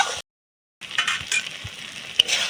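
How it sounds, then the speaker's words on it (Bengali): Ground spice masala of turmeric, Kashmiri red chilli powder and coriander powder sizzles and fries in oil in a pan while being stirred, giving a steady crackling hiss with scraping strokes, broken by a brief silent gap. "ভালো করে মশলাটা কষিয়ে নেব।"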